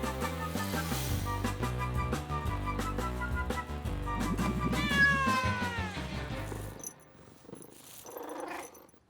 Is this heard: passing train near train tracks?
no